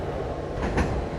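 A train in the simulator game Running Train crossing a bridge, giving a steady low rumble of wheels and carriages with a brief louder clatter partway through, close and continuous without voices.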